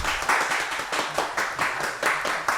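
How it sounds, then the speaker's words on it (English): A studio audience claps for two podcast guests from Texas, a tuner and a driver, with rhythmic bursts of hand claps swelling and fading steadily and no talk over them. "So let's clap it up for AdminTuning and Oscar."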